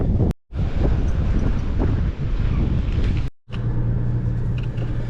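Strong wind buffets the microphone on a fishing pier at Myrtle Beach, a loud, continuous roaring rumble broken by two brief dropouts, with no talking.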